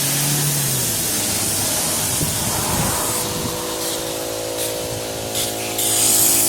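Compressed air blowing water out of an inground sprinkler system, a steady loud hiss and spray of air and mist from the line, close and continuous with faint sputtering, no talk.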